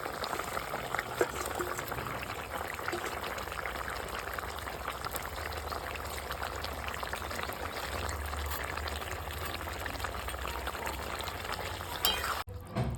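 Papaya and sarpunti fish curry with cumin paste simmers in a pot, a steady close bubbling and soft sizzling that continues throughout with no talk.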